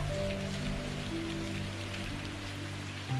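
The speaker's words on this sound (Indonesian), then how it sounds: "ditemani suara hujan di luar jendela" Rain falling outside a window makes a steady, close patter beneath soft, sustained background music, with no voices.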